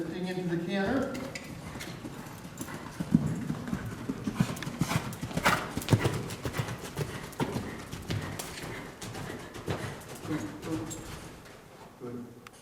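Horse hooves clip-clop in a steady canter rhythm on an arena surface during a riding lesson, fairly near, with an occasional snort and a voice talking over the footfalls.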